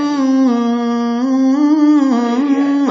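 A single voice mimics a motorcycle exhaust with a sustained nasal hum that wavers slightly in pitch for about three seconds. It is close and clear, with no other sound behind it.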